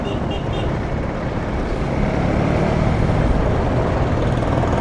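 Kawasaki Ninja ZX10R superbike engine while riding through a crowded event area, a steady, loud broadband drone held for the whole stretch with no clear revs, heard alongside other traffic.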